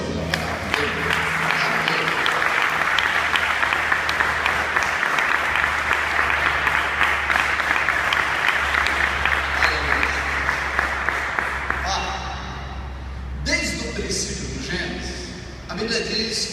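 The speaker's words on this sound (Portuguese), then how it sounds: "Você pode aplaudir o Senhor pela palavra dele?" A church congregation applauds the Lord after a sermon reading, with dense, loud clapping that carries on steadily for about twelve seconds before tapering off as a voice returns.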